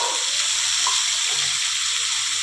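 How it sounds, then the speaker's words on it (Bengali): Water splashes into a hot cooking pan holding ginger, cumin and salt for a spicy mashed tilapia fish dish, a brief loud rushing pour with no talking. "কড়াটা একটু পুড়ে যাচ্ছে, একটু জল দিয়ে দিচ্ছি।"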